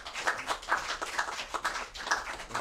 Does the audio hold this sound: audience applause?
yes